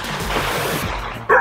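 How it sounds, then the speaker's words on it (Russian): A dog barks once, sharp and close, at the end of a brief stretch of steady outdoor noise on a dog beach in Vancouver. "Смотрите, набрела на пляж для собак."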